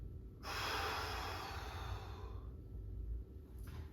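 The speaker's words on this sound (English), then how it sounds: "Take a big breath in." A deep breath drawn in during a morning warm-up stretch, one long, close airy inhalation lasting about two seconds, followed by a quieter pause and a brief second breath at the end.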